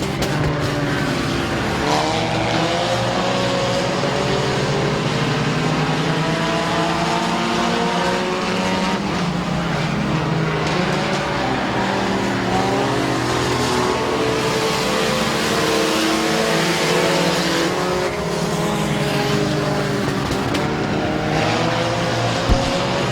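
Race cars lapping Midvale Speedway, a continuous loud roar of engines with rising and falling revs as the pack passes, steady throughout.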